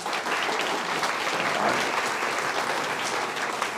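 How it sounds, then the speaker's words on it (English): Steady audience applause fills the space at a public evening talk on Kīlauea's eruption, a dense even wash of many hands clapping close and loud without a break and with no talking. "Please give a round of applause for Ben Gaddis and Don Swanson."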